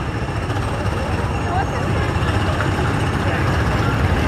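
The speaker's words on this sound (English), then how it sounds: "Chirping brakes, chirping wheels." Theme park ride vehicles at Magic Kingdom, Walt Disney World, roll past with a steady rumbling wheel noise, faint high chirps from brakes and wheels, and a gasoline engine droning underneath.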